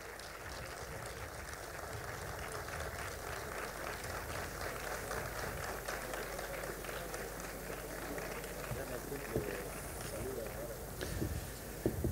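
Sustained, fairly faint applause from the crowd at a folk festival, an even wash of clapping that carries on for about twelve seconds without talk.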